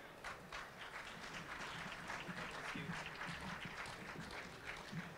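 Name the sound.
audience applause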